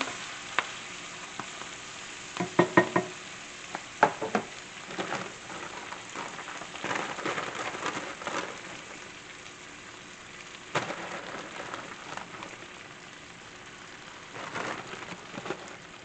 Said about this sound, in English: stir this up a little bit. I'm going to add some more spinach here.